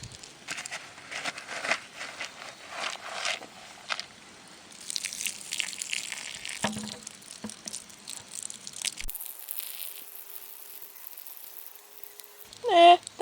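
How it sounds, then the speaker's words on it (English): Soaked whole grain chicken feed drains through a pot with small holes, giving a steady trickling and dripping of water with crinkling, crackling grain movement, fairly quiet and close. "So before we feed it to them, I have to strain the water out"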